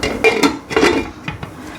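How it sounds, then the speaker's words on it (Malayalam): Metal lid clattering onto a cooking pot of simmering Kerala sadya kootukari, a few close, sharp taps and rattles in quick succession with no talk. "ഇനി പാത്രം ഒന്ന് അടച്ചിടും"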